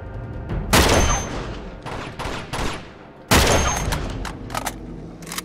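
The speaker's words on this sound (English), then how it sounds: "Five shots, five targets" Heavy gunfire in the Uncharted 2: Among Thieves Remastered video game, loud repeated bursts of shots with two big volleys and scattered follow-up cracks, close and dominant with no talking.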